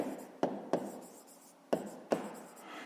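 Pen strokes on paper as a math answer is written down by hand, with four short scratchy strokes spread unevenly over a few seconds at close range, and no talking.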